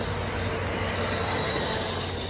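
A Christmas holiday train passing between communities makes a loud, continuous rumble with squealing wheels and faint clickety-clack. The noise stays steady and close throughout, with no voices.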